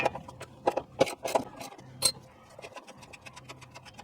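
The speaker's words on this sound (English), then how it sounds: "we need to take out this nut right here" Ratchet wrench removing a nut under a 2015 Toyota Prius near the catalytic converter bracket, giving bursts of rapid metallic clicks and ticks that come and go with short pauses, close up.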